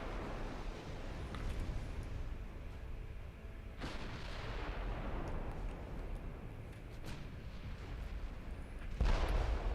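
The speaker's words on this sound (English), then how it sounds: "Why are you firing at a light cruiser with your main gun?" Heavy warship main guns booming in the Ultimate Admiral Dreadnoughts naval battle game, with a sharp blast near the four-second mark and another louder near the end over a constant rumbling battle bed.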